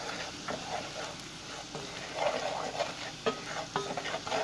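Onion and garlic sauté in a pan with a soft, steady sizzle, and stirring scrapes and small clicks come through a few times. Quiet, no talking.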